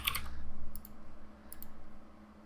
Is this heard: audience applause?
no